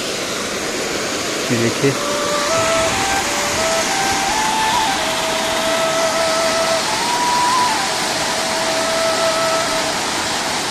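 A small roadside waterfall near Tiffin Top, between Tanakpur and Champawat, rushes and splashes steadily nearby in a continuous hiss, with a faint tonal whine drifting over it and a voice speaking briefly.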